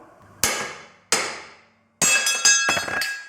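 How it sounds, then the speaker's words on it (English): A hammer strikes a pocket bike engine mount in a series of sharp metallic blows, two spaced hits followed by a quicker cluster of ringing clanks, loud and close. "Now I'm going to bash it out for hammer."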